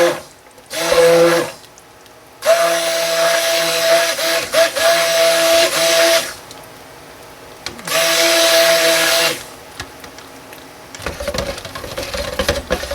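Honey oatmeal soap batter blended with an electric stick blender, several loud whirring bursts of a few seconds each separated by pauses, close up with a steady motor pitch.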